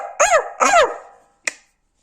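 A person imitates a dog by voice as a dare, giving two close, loud, tonal barks and then a short, sharp yip after a pause.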